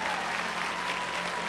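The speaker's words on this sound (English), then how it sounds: "clap like you just caught that" Dense, sustained audience clapping filling a hall during a motivational sermon, a continuous even wash of many hands with no breaks.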